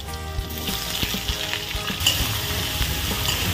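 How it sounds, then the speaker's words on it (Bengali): Nigella seeds, green chillies and potatoes frying in hot oil, giving a dense, close sizzle with frequent sharp crackles and pops, plus scraping stirring knocks scattered throughout. "তেলটা গরম হয়ে গেছে, এর মধ্যে এক চামচ কালো জিরে দিয়ে দিলাম, তার সাথে কটা কাঁচা লঙ্কা"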